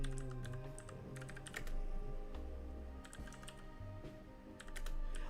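Fingers type steadily on a computer keyboard, a close run of quick clicking keystrokes in uneven bursts, with a low background hum beneath.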